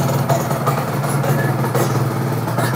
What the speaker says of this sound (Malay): Tapi engine motor ini lain macam lah bunyinya.